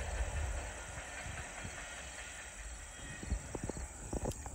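A Norfolk Southern freight train rumbles past at a distance in Rural Retreat, Virginia, its steady rolling noise punctuated by intermittent clacks and knocks from the rails.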